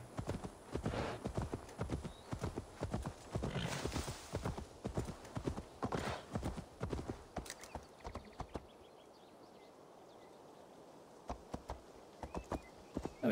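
A horse's hooves in Assassin's Creed Valhalla clop in a fast, steady rhythm, then stop briefly before a few more scattered hoof strikes, with a short snort or whinny along the way.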